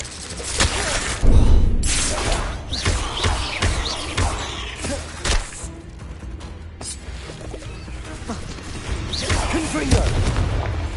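Fiery Confringo spell blasts in the Hogwarts Legacy video game, several loud booms and crackling bursts scattered through a busy battle mix, with voice-like sounds mixed in.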